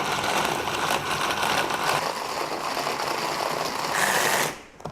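A blender blitzes a spiced crumb mixture with curry powder, a steady loud whirring for about four and a half seconds that cuts off abruptly near the end, with no talking.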